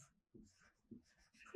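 Marker or chalk scratching across a board while a geometry exercise is written out, a few short faint strokes with small pauses between them, heard up close in a quiet room.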